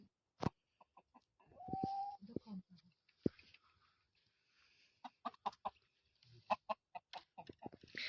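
Newly bought rooster in a quiet indoor setting giving scattered short clucks and one drawn-out call, faint and close, mixed with light knocks and rustling as it moves about, with occasional soft voices.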